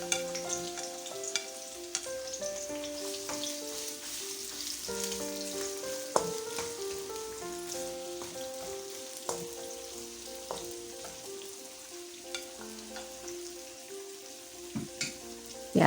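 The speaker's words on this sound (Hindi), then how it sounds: "प्याज को गोल्डन ब्राउन कर लेंगे।" Onions fry in a pan for biryani until golden brown, giving a steady close sizzle with light stirring scrapes and occasional pops, while faint music plays underneath.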